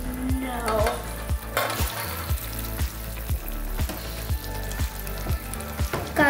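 Butter being stirred into hot caramel in a pan, a loud bubbling sizzle with a regular rhythm of utensil scrapes roughly every half second, close up.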